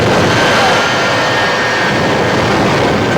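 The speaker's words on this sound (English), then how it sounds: "It's a 1984 Peterbilt, and it's powered by two Westinghouse J34 jet engines" Two Westinghouse J34 jet engines power a 1984 Peterbilt truck rated at 36,000 horsepower, running at a racetrack. A loud, continuous, close roar holds steady throughout, with a faint high whine riding over the thick rumble.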